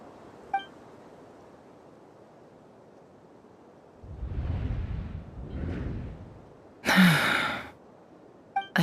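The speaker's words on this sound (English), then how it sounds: "I heard Yehuda gasp" Yehuda, a character in the video game Genshin Impact, gasps during a story scene: a soft breathy sound comes first, then a sharper, louder intake of breath, set against quiet ambience with a few faint chimes.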